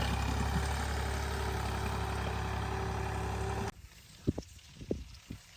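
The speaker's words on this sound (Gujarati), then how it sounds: "અહીંયા ટ્રેક્ટરનો અવાજ આવે" A tractor engine runs steadily while ploughing a farm field, a loud, continuous low drone that cuts off abruptly partway through, leaving quieter scattered thumps and rustles close by.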